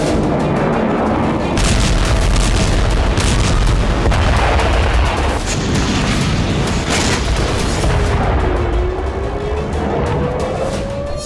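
Heavy booms and rumbling blasts from Israeli bombing in Gaza, dense and continuous with layered low-frequency thuds and crackling, loud and sustained throughout.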